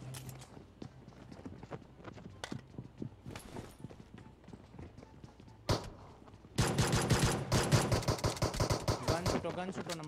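Rapid gunfire rings out in a PUBG Mobile match: scattered single shots and short bursts at first, then a loud, dense barrage of automatic fire over the final seconds.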